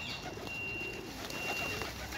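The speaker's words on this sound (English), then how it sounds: "there are lots of pigeons" Pigeons cooing softly in a park among ducks and geese, low repeated coos under a steady outdoor hum with a faint high whine.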